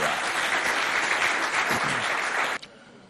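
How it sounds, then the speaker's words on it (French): An audience claps steadily to welcome a singer, a full, dense round of applause that cuts off abruptly near the end, leaving near quiet with one last clap. "Applaudissements pour l'accueillir."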